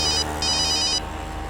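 A telephone ringing during a CID TV crime drama episode, a loud electronic trill in two quick bursts over a low background hum.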